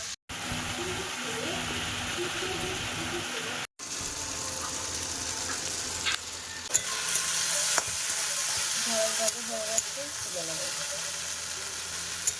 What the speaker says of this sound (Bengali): তরকারি কষাই করছি